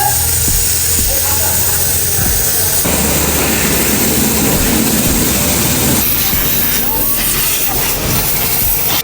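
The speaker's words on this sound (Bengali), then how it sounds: "তো আমাদের বাইকের কাজ চলছে, ওয়াশিং চলছে" A motorbike is washed at a service centre with a loud, continuous hissing spray close by. The jet shifts in tone as it moves over the bike, with faint background voices.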